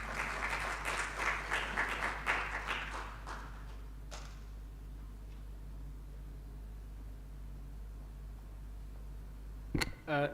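Applause from a seated audience at an East African Court of Justice bar-bench forum, a burst of clapping at the start that fades out within a few seconds, followed by quiet room tone and a brief loud knock at the close.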